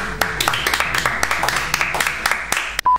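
Several people clap together in quick, irregular bursts, a lively smattering of applause that ends abruptly near the close.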